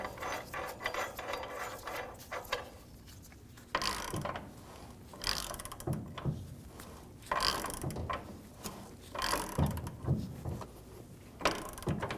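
Rapid ratchet clicking in short bursts as a nut is tightened on the rear upper control arm bolt of a 2019-2025 Ram 2500, with brief pauses and small mechanical knocks between strokes, close-up and without talk.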